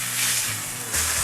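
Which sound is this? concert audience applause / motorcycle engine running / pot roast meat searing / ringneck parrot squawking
pot roast meat searing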